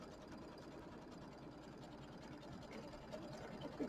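An embroidery sewing machine stitches out a quilt block for a mini quilt, a steady, dense mechanical whir and rapid needle patter running without pause at moderate level.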